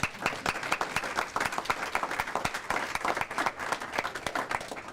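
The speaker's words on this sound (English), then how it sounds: "Yeah, we can clap." A crowd at a community recognition event claps steadily, many overlapping hand claps forming a continuous moderately loud applause with distinct sharp hits throughout.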